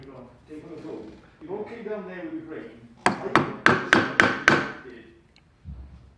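A wood carving finished with a few stop cuts: after a stretch of talk, six sharp, evenly spaced taps of a tool into the wood ring out close and clear, then fade to quiet.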